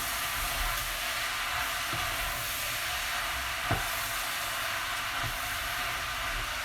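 Sausage and fennel pasta sauce in a pan with a beef stock cube crumbled in, hissing and sizzling steadily as it gets a stir, with a few soft knocks from the spoon against the pan.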